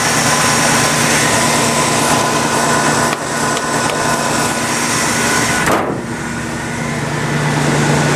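A 1973 International Scout II 4x4 with a 345 V8 cruising around a property, a loud, steady low engine rumble with wind and road noise and a brief dip midway, no talking.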